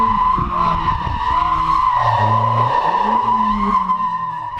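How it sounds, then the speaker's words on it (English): Car tyres squealing and skidding through a handbrake drift transition on a track day, a sustained loud screech over the engine roar, close and continuous without talk. "That's the first time I had actually transitioned the car from one drift to another with the handbrake"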